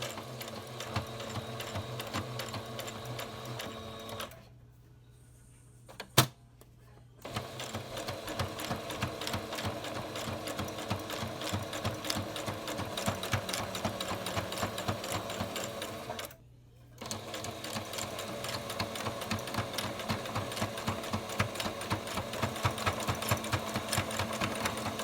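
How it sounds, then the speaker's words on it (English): A sewing machine stitches the folded edges of a fabric surgical mask, a fast, steady mechanical whir that runs continuously, stops briefly twice, then resumes at an even pace. "Now I'm going to fold over this side and the bottom edge, and I'm going to sew it."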